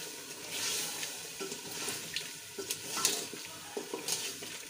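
Chicken with vinegar being stirred in a sizzling pot, with repeated scraping strokes and soft clanks of a spoon over a steady frying hiss.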